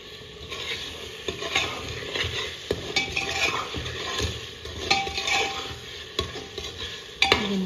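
Halved boiled eggs frying in a spice masala in a pan, sizzling steadily with repeated scraping stirs and occasional clinks of a utensil against the pan, close and fairly loud.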